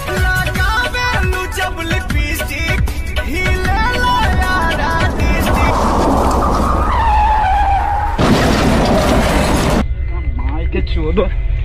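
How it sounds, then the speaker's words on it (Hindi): Cartoon car sound effects for a car driven fast, with skidding and tire-squeal swooshes over lively background music, loud throughout, ending with a sharp screech burst. "गुल्ली अपना सर हिलाता है और गाड़ी को और तेज भगाता है।"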